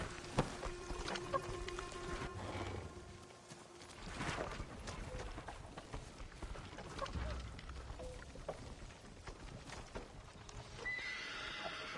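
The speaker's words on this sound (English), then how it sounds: "Follow those horses." Horses gallop with clip-clopping hooves and neigh loudly in the video game Ghost of Tsushima, the whinnies rising over steady hoofbeats with scattered game effects.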